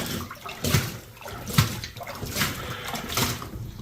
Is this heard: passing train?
no